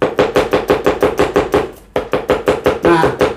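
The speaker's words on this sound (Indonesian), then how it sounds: "Cara memotong bawang merah" Rapid, steady knife chops through shallots on a cutting board, about four strikes per second, close and crisp, with a short pause near the middle before the rhythm resumes.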